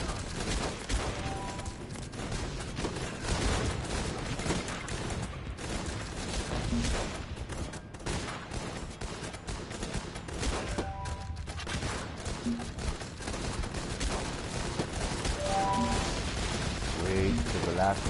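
Video game Guns Up! battle with dense, continuous gunfire from engineer units, a steady crackling fusillade with thuds and mechanical clatter, layered under game music and effects that carry on without pause.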